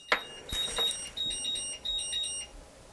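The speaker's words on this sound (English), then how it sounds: "It's a Tournier charger beeping." A series of high electronic beeps in short bursts from a LiPo battery charger, fairly quiet, with a soft click at the start and little else around it.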